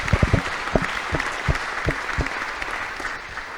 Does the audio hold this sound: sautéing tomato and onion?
no